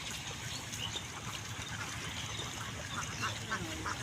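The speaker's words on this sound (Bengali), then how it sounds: "এখানে কতগুলো হাঁস আছে এখন? 900 হাঁস আছে" Ducks on a farm holding about 900 birds quack in a dense, continuous chorus, moderately near and fairly faint, with some trickling water mixed in and no clear speech.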